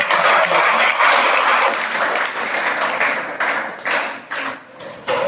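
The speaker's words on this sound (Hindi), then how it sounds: "एक बार हम जोरदार तालियों से इन स्कीमों का स्वागत करते हैं।" Audience at a career counselling event for ITI students bursts into loud applause welcoming government schemes, dense clapping that thins into scattered claps near the end.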